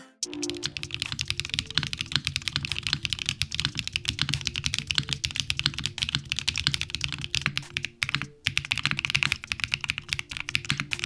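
Fast, steady typing on a QK80 mechanical keyboard, crisp clacky keystrokes close up, running continuously with only a brief pause.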